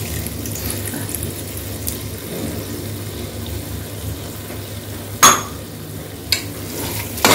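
Biryani masala frying and being sautéed in oil in a home kitchen for chicken biryani, a steady close sizzle with stirring scrapes, two sharp clinks of a utensil against the pan partway through, no talk.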